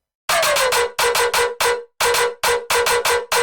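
Punchy drum shots played dry with no transient shaping, a tight pattern of loud hits in short bursts with brief gaps, each hit with a longer ringing tail and no talking.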